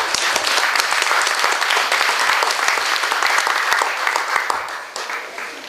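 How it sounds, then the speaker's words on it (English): A large audience at a company's 30th anniversary celebration in Toronto, Canada gives loud, sustained applause of many hands clapping that tapers slightly toward the end. "Please a big round of applause."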